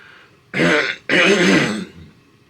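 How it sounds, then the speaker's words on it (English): Two rough throat clearings from a sore throat in quick succession, close and fairly loud, the second longer than the first, with quiet between. "I'm trying to clear my throat, it hurts"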